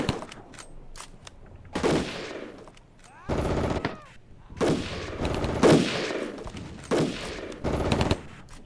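Machine guns fire in the Cold War tank game Armored Brigade, in loud repeated bursts of rapid automatic shots that come in several clusters with brief pauses between them.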